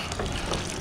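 Liquid trickling and splashing out of the diaphragm condenser on a moonshine still during a sweet feed run, a brief close continuous flow.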